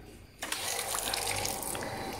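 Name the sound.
weak water flow from old water pump outlet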